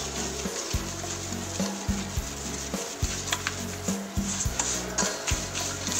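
An egg, yeast and sugar mixture is stirred in a bowl for a yeasted cheese cake, giving soft rhythmic scraping and a low rumbling, close up, with no talking.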